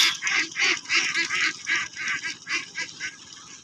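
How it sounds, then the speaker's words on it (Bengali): On a duck farm with about 2200 ducks, a dense flock quacks and honks loudly and continuously close by, in overlapping rhythmic calls and with no speech. "এখানে আছে প্রায় 2200 হাঁস"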